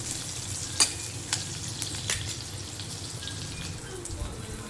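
Green chillies fry in a pan for wheat rava upma, a steady, soft sizzle with a few louder spatters and clinks of stirring, close and continuous.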